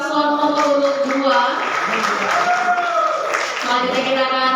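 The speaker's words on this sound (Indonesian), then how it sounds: "boleh minta tepuk tangan yang meriah untuk paslon nomor urut 2" Loud, steady applause and cheering from an audience at a public debate for the candidate pair number 2 in East Sumba, continuous throughout with voices mixed into the crowd noise.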